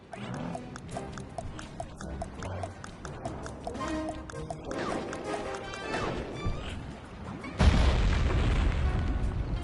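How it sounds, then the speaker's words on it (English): Dynamite blows up in the Sly 3 video game: a sudden loud, broad boom hits near the end and rumbles on to the close, after a stretch of busy game music and effects. "Place the dynamite when you get near the anchor, or kaboom!"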